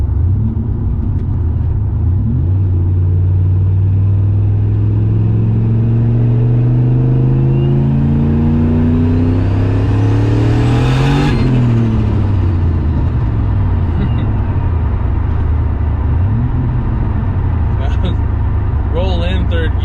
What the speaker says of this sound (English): Roll in third gear, burnout.